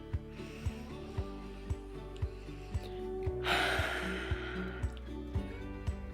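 A single slow, deep breath is drawn in during a guided breathing exercise, a breathy rush lasting about a second. It sits over soft background music with a regular ticking beat.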